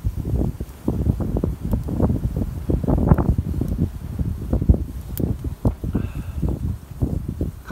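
Strong wind sweeps across a stormy hammock campsite, with a steady, gusty roar and rustling close to the microphone for the whole stretch and no one speaking.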